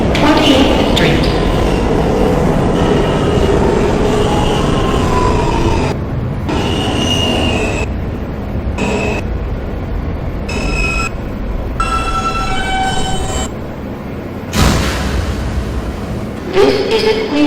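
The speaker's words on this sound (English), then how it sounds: "This is a Queens-bound R train." A Queens-bound New York subway R train runs on the tracks with a loud, continuous rumble and squealing wheels. A few brief quieter stretches break it up, and a voice announcement plays over the noise.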